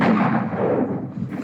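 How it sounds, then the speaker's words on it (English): Gunfire in the 1960 western The Magnificent Seven, playing on a screen: a loud, dense, rumbling barrage of shots that continues without a break. "Why do the bullets sound like lasers sometimes?"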